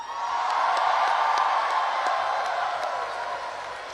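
A rally crowd in Portland, Maine claps and cheers loudly, a dense, sustained wash of applause and whoops that carries on steadily throughout.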